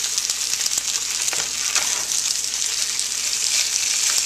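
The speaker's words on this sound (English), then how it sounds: "Stir it all in, get it all stirred up in there." Sriracha sauce stirred into chicken adobo sizzling in a pan, a steady loud hiss of frying with scraping stir strokes throughout, no voices.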